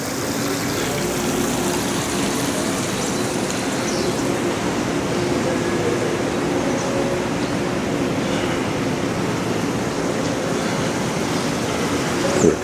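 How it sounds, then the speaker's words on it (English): Steady rushing water from man-made streams running through a public square in Reykjavik, a continuous broadband wash with faint background hum and no speech. "There are a couple of man-made streams to add some allure."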